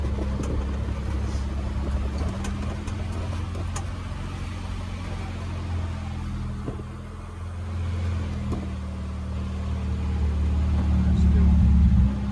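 A car engine with a freshly rebuilt carburettor runs at a steady high idle, a continuous droning hum that swells slightly toward the end, with a few light clicks over it.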